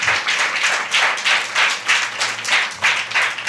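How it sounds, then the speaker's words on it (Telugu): Clapping from a church congregation at a Telugu Holy Spirit festival gathering, a dense, sustained burst of many hands together filling the hall, steady and loud with slight rhythmic surges and a low hum underneath, no talking over it. "అర్థమైతే గట్టిగా చప్పట్లు కొట్టాల."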